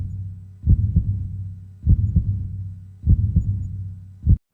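Heartbeat sound effect of deep, muffled double thumps in a slow regular rhythm, three beat pairs over a low throbbing hum, close and alone.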